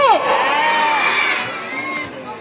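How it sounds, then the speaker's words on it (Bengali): A gathered crowd of people, many of them children, cheering and shouting loudly together in one sustained burst of overlapping voices. "রাজ দিয়ার জন্য সবাই মিলে জোরে হাততালি হোক"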